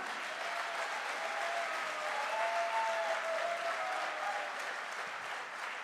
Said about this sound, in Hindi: यस, एक बार डायमंड वाली तालियां।